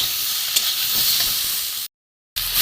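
Green chillies frying in a hot pan for spinach chachchari, a continuous close sizzle with stirring scrapes, then a brief cut to silence before the frying returns.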